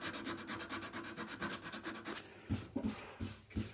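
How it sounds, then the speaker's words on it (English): Abrasive rubs old finish off an Atkins saw handle in quick, even back-and-forth strokes, a close, dry scratching rasp with a steady rhythm that turns to slower, separate strokes near the end. "there's claggy old finish on this, and using a bit of abrasive isn't too bad"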